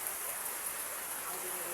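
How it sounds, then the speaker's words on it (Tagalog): Heavy rain pours during a typhoon, a constant broad wash of hissing water that fills the scene evenly, moderately loud with no clear gaps. "Ngayon, umuulan pa rin."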